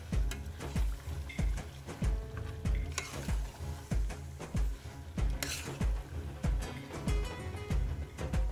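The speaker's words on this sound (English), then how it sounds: "We now want to sear our meat slightly in the onion and the ground spices" Lamb searing with onion and ground spices in a pan while being stirred and mixed, a steady sizzle under repeated scraping strokes of a spoon against the pan, close and fairly loud, with no talking.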